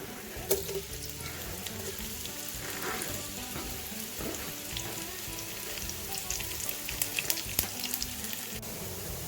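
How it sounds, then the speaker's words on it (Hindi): Two large onions sizzle and crackle steadily in hot oil for chicken korma, a close, continuous frying hiss with scattered pops. "ऑयल गर्म हो जाए, इसमें 2 लार्ज साइज के प्याज ऐड करेंगे।"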